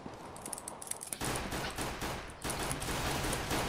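Dense gunfire in a CS:GO firefight, bursts of automatic fire and rapid shots layered together, growing louder and more continuous partway through, with no talking.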